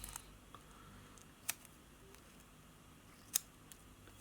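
Scissors snip fly-tying material into a long, shallow taper for a minnow tail, giving two faint, sharp clicks spaced a couple of seconds apart over quiet room noise.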